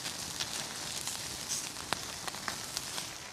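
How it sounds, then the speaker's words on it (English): A stick of butter melts over a campfire with a faint, steady sizzle and hiss, broken by scattered small crackles and pops throughout. "that's the sound of wasting an entire stick of butter."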